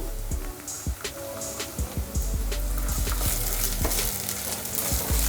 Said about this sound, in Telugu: ఈ అల్లం పేస్ట్ పచ్చివాసన పోయి మంచిగా ఫ్రై అవ్వాలండి.